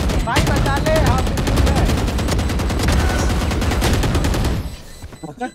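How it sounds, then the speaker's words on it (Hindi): Rapid gunfire in a video game plays as dense automatic bursts, loud and close. It runs continuously for several seconds, then breaks into a few scattered shots at the end. "गोली चला दी"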